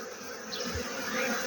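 Honeybees buzz close around a beekeeper's face in a spring apiary, a continuous near, wavering drone of many wings.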